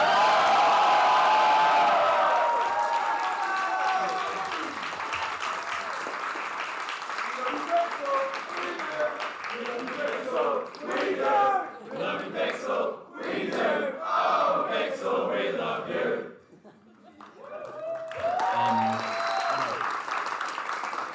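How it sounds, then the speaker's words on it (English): A large crowd at a Splatoon 3 grand finals LAN tournament applauds and cheers loudly, with whoops rising over sustained clapping, then dipping briefly before swelling again; a voice speaks near the start. "Please everyone make some noise for Pixel Squid"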